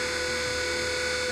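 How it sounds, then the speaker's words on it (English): A turbo gun sound effect from the Halo video game gives a continuous high-pitched mechanical whine with a steady droning tone, close and loud, lasting just over a second with no talk. "Turbo gun sound."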